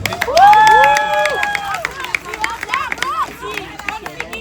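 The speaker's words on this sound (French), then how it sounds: "un gros applaudissement pour la maman d'Ariana" A crowd claps and cheers for Ariana's mother, with a loud voice calling out at the start and quick, scattered claps continuing under the crowd noise.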